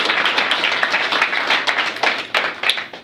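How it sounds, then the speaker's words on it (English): A small audience claps for a few seconds at a business recruiting gathering, uneven and close, with individual hand claps standing out sharply. "We'll give yourself a round of applause for just being here."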